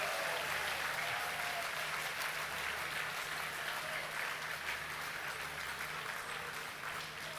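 A crowd at a Serangoon grassroots gathering gives volunteers a steady round of applause, a dense, even wash of clapping that holds throughout and tapers slightly at the end.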